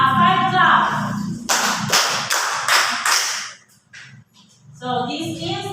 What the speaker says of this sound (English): Let's give him 5 claps.